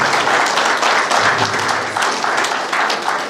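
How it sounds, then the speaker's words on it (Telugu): Audience applause at an award presentation during a public event for ex-servicemen's welfare, a loud sustained wash of many hands clapping close by, steady for the full stretch with no pauses. "చప్పట్లు కొట్టండి."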